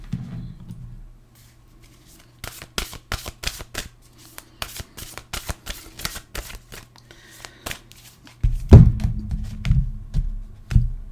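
Oracle cards being shuffled by hand, a rapid run of crisp riffling card snaps, followed by a louder rustle and thump as the deck is handled, with no talk.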